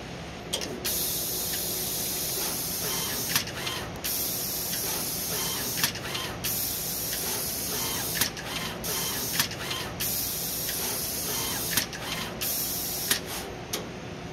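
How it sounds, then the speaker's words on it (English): An automatic pick-and-place machine sets THR high-current terminals and other parts onto a PCB: a steady mechanical hum carries short, regular pneumatic hiss bursts every second or two, with no voices. "Now you can see the fully automatic pick and place process with the machine."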